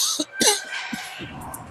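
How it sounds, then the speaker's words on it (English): A pair of sharp, close coughs in quick succession, then quieter rustling and background noise, at a women's ice hockey game. "I got some coughs this weekend."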